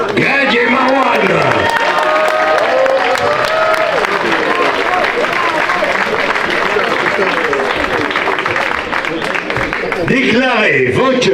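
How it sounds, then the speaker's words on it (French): An audience at an amateur boxing bout claps and cheers for the two fighters, a loud, continuous burst of applause with crowd voices and shouts mixed throughout, swelling again near the end. "on va les applaudir bien fort"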